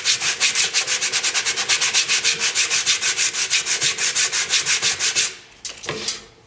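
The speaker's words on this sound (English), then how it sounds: "put a fair amount of downward pressure on that sandpaper and just cover the whole surface in that fashion" Sandpaper is pressed hard and rubbed back and forth over a Syncork cork surface. Fast, even strokes sound as about thirty rhythmic rasping swipes, loud and close, before stopping into a few faint handling noises.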